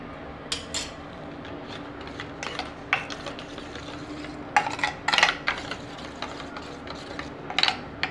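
Egg kalakki mixture being stirred together with mutton kuzhambu, Madurai style, a spoon or utensil scraping and clinking against a metal bowl in scattered close strokes with quiet pauses between.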